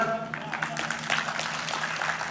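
A studio audience claps at a TV show launch as a Bollywood star makes his entrance, steady moderate clapping with a host's voice over it.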